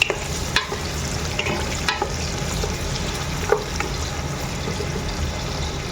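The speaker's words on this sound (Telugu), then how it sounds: "ఆనియన్స్ ఇందులో వేసుకుందాము. ఒకసారి కలుపుకుందాం." Large-cut chopped onions sizzle in hot oil in a pot for an Arabic-style mutton curry, a constant crackling fry punctuated by a few sharp scrapes and clicks of a spoon stirring, close and with no talk.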